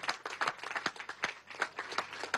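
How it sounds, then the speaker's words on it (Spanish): Sparse applause from a small crowd at an outdoor community event in Venezuela, a few loose, uneven claps close by that rise and fall over a couple of seconds. "Vamos a darle un aplauso amoroso."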